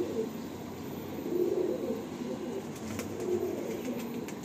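Madrasi pigeons cooing in a low, soft, rolling murmur, a couple of gentle swells of coos at a modest distance against quiet background noise.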